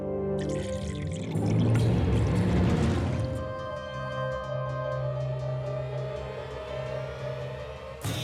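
Drinking water is poured into a glass in an office, giving a brief splashing pour of about three seconds that then fades beneath sustained tonal background music.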